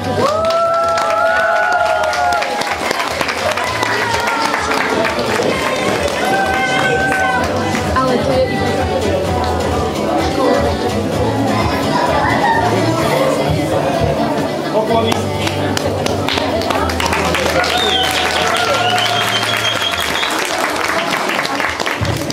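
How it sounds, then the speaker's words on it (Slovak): Applause at a children's carnival in Petrovice, sustained clapping from a crowd lasting throughout, with chatter, some children's voices and occasional cheers mixed in. "A zase s potleskom"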